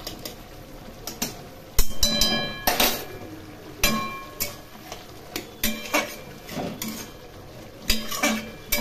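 Cooked kankrol (spiny gourd) curry is moved into another pot, with a metal spoon scraping and clinking sharply against the cookware in irregular knocks and clanks, some louder than others.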